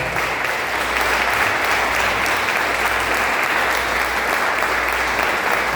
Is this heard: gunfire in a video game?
no